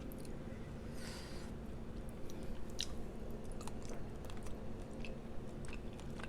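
Close, wet chewing and soft crunching of cold crawfish dipped in sauce, steady and continuous with no talk.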